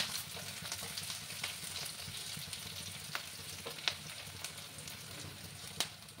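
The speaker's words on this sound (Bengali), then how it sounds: "আমার পেঁয়াজটা ভাজা হয়ে গেছে" Onions fry over high heat in a pan for fish curry, giving a dense, even sizzle with scattered sharp crackles and pops, steady and close without any voices.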